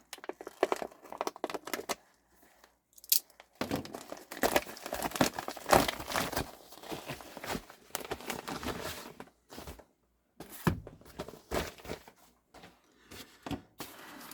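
Cardboard and plastic packaging for a Zelos Mako V3 dive watch is cut and torn open close up, with bursts of crinkling, ripping and rustling separated by short quiet pauses.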